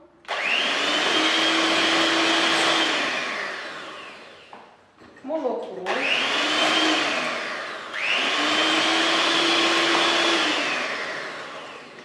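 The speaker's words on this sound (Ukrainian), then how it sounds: "додаю яйця, ванільний цукор та починаю збивати міксером" An electric hand mixer whirs steadily while beating eggs with vanilla sugar for Belgian waffle batter, running in three long loud bursts separated by a brief pause with a quick speed change in the middle.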